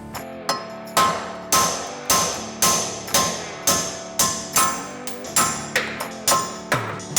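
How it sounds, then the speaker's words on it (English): Sledgehammer pounding stock wheel studs out of a Subaru Impreza GD hub, about a dozen sharp metallic strikes landing in a steady rhythm, each ringing briefly before the next, close and loud with no talk. "We're just going to take a sledgehammer, pound these stock studs out,"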